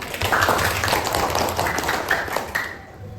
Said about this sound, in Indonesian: Tepuk tangan untuk Fajar.